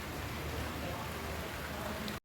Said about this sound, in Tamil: அதுக்கப்புறம் தான் மழை வந்துச்சு.